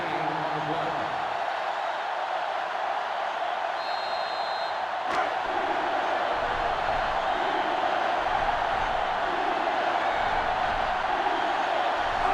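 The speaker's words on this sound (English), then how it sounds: "The crowd is really letting him hear it." Stadium crowd at a college football game in the PS2 game NCAA Football 2006, a broad steady roar of cheering and jeering under a commentator's voice.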